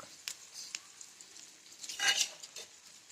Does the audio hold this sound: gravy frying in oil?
yes